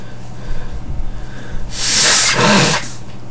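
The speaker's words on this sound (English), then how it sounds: "And I got a sneeze." A single sharp sneeze from a person playing the horror game Slender, a short breathy intake followed by a loud, hissy burst up close, with no speech.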